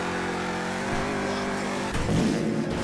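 A video game car engine revving hard with a rising, buzzy tone and a burst of louder acceleration near the end, heard alone without talk.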